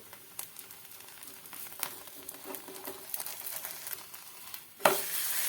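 A farali paratha cooks in a pan after being flipped, a quiet crackling sizzle with scattered pops, ending in a sudden louder burst of hissing.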